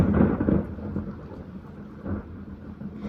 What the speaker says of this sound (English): as soon as I started to get ready to record, the rain set in